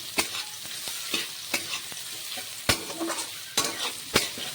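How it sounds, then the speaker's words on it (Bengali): Soybean chunks frying in oil, stirred with a utensil: a soft sizzle runs underneath a series of sharp scraping knocks at irregular intervals, close and clear, with no talking. "সয়াবিনগুলোকে এখন ভালো করে একটু ভেজে নেব তেলের মধ্যে ভেজে তুলে নেব"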